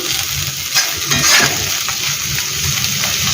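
Onions fry in a pan for a potato fry, giving a continuous hissing sizzle, close and steady, with a few soft stirring scrapes mixed in.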